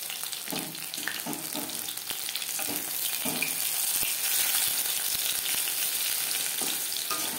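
Pumpkin flower fritters in batter deep fry in oil with a loud, constant close-up sizzle, overlaid early on by several rhythmic scraping strokes and a few clicks, and no voices.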